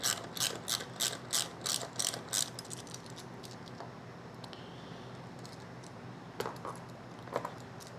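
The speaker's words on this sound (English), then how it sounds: "The next thing we need to take off is this bolt that retains the gas tank" Ratchet clicking on the 12 mm bolt that holds the gas tank to the frame of a 1989 Honda XL600V Transalp, a quick burst of close, crisp clicks, then quiet with a few stray taps.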